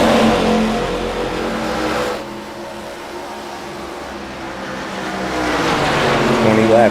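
ARCA stock cars race at Indianapolis, loud engines roaring past in a steady drone that dips briefly and then swells again as more cars approach. Faint commentary runs underneath.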